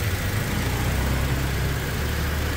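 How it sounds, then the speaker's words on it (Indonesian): A Toyota Fortuner with a 2.7-litre petrol engine idles smoothly after a tune-up, a steady close hum with a faint ticking from the injectors and no break in the sound. "suara mesin super halus, injektornya saja yang keras."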